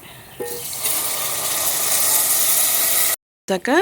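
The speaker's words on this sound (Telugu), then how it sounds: "ఇప్పుడు దీనిలో కొద్దిగా వాటర్ కూడా పోసుకోవాలి" Water is poured from a vessel into an onion masala curry base cooking in a pan, giving a steady, close, hissing and sizzling rush. It cuts off suddenly, and a short clatter and rustle follow.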